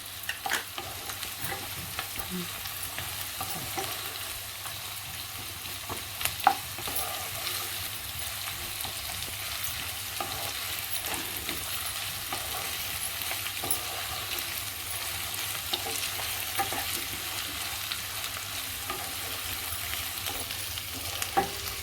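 Ginger garlic paste fries in a pan with a soft, continuous sizzle, punctuated by occasional clicks and scrapes of stirring, close and quiet.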